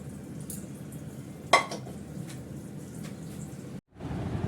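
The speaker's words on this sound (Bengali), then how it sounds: "বেগুনটা আমি এর মধ্যে ভাজবো।" Eggplant fries in a pan with a low, steady sizzle, broken by a single sharp clink of a utensil against the pan partway through and a brief silent gap near the end.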